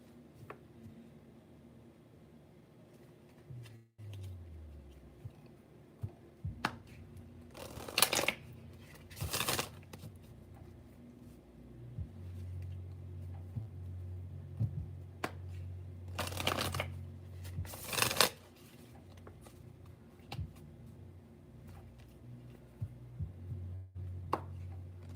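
A deck of tarot cards is shuffled in several bursts, brisk riffling and flapping rattles close by, separated by softer handling and quiet pauses, with no talking.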